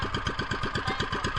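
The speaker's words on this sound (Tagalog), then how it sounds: "Patayin muna yung makina" A small fishing boat's engine runs at a steady idle, a loud close-up rapid thumping pulse with an even rhythm and no talk over it.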